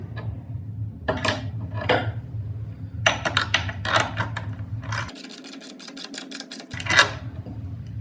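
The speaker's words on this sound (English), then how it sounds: "now I'll just go in and tighten everything up." Metal clinks and scraping rasps of nuts and bolts being tightened on a portable steel target stand, irregular close handling sounds with short metallic knocks, no talk.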